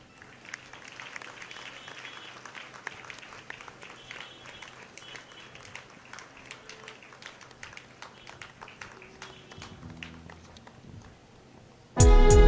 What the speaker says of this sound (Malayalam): നിങ്ങൾ കൈയടിക്കുന്നതിനും വിരോധമില്ല